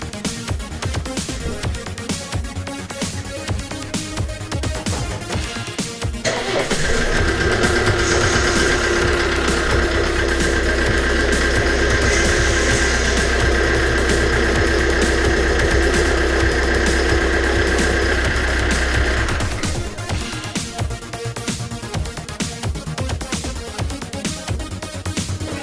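Kia Sedona 2.9 CRDi diesel engine running after a power steering pump replacement: a steady, even engine hum swells up and holds for about twelve seconds before dropping back, with no talking.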